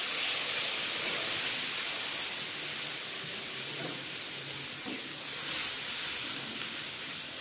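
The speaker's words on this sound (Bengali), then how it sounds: "এর মধ্যে আমি এখন দিয়ে দিচ্ছি জল।" Water is poured into a pan of fried spices for a Bengali fish curry, giving a steady hissing sizzle. The hiss holds evenly throughout at moderate loudness, with faint clinks underneath.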